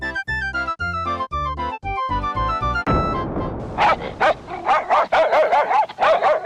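A cartoon dog barks in a rapid run of yappy, excited barks, loud and close, following a short musical jingle with no talk.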